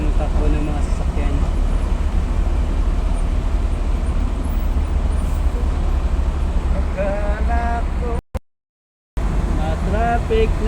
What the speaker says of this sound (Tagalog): Na-traffic na dito sa papuntang Alabang.